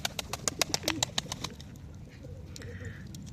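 Pigeons in a large coop open with a quick series of sharp wing claps and pecking taps, then settle into soft, low cooing nearby.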